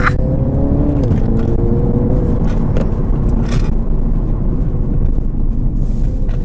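A Mini Clubman JCW ALL4 in sport mode pulls hard along a country road, its engine drone loud and steady from inside the cabin, with a brief pitch shift near the start and road rumble underneath.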